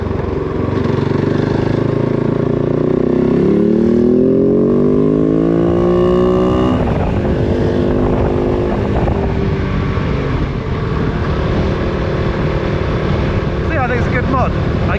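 A KOVE 450 Rally motorcycle engine drones while cruising on the road, with rising and falling engine tones and wind rush throughout as someone talks over it.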